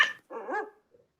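A dog gives one short yelp, then a single bark with a faint whimper after it, from a recorded listening exercise.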